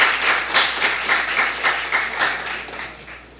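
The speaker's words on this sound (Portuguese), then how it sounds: "Então, aplausos aí para o nosso Barros Café." Audience applause at a literary gathering, a steady patter of many hands clapping in a room for a few seconds, fairly close and fading slightly toward the end.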